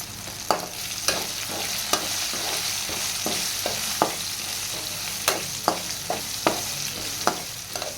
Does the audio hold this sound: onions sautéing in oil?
yes